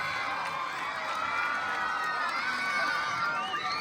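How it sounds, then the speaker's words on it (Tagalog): Pageant audience cheering and shouting in a steady, dense crowd roar, with high excited voices throughout and no clear break. "Bakit ngayong gabi, hindi nyo sabay-sabay palakpakan at hiyawan ang may morenang katawan, Binibining Sanya Lopez."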